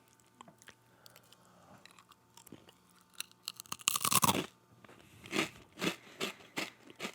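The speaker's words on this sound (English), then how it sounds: "I'm gonna do a crunch test." Cheese and brown rice gluten-free crackers are bitten with a loud crisp crunch close to the mic, then chewed in several softer crunching bursts, after quiet rustling at the start.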